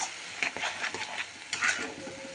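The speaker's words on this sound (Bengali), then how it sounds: "এবারে মশলাটাকে আমি মিডিয়াম ফ্লেমে রেখে কষাতে থাকবো।" Spices being stirred and fried in a pan over a medium flame, soft scraping strokes with a faint sizzle, close and quiet, with no voices.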